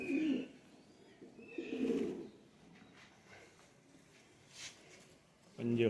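Khatang pigeons give soft, low coos in a few short bursts at close range. People talk quietly in the background.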